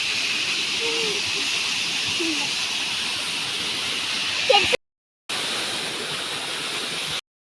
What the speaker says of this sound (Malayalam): വെള്ളച്ചാട്ടം കണ്ടെത്തിയിട്ടുണ്ട് കേട്ടോ